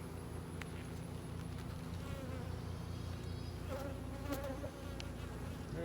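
A swarm of honeybees buzzing steadily during removal from a camper, a dense, continuous hum with individual bees flying close by now and then.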